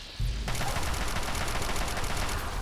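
Sustained rapid automatic gunfire in Fallout 3, a dense continuous barrage that starts abruptly and keeps up steadily at moderate loudness.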